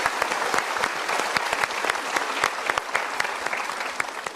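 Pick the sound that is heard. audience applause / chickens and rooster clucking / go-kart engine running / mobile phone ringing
audience applause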